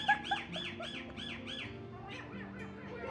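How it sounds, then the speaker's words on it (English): A pet bird at a family home in Iraq squawks in a fast run of repeated calls, then trails off into softer chatter, fairly faint and close. "the funniest bird I've ever seen"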